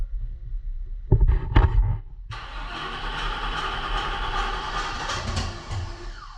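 A cold truck engine on a turbocharged build cranks with a few heavy, uneven turns, then catches and settles into a loud, steady idle that rumbles close by.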